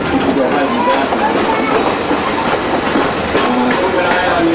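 A Cape Cod Central Railroad passenger car rolls steadily along the rails with continuous rumble and clickety-clack from inside the train, a loud, dense ride noise with a voice faintly mixed in.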